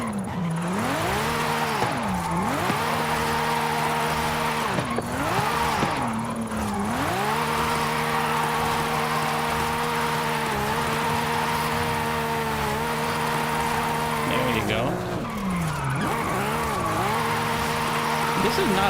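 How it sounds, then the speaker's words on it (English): A car drifts in Forza Horizon 5, driven with a steering wheel, its engine droning steadily and loudly while the pitch sags and climbs again as the throttle is blipped, with tyre squeal mixed in throughout. "let me go ahead and do a little drifting here"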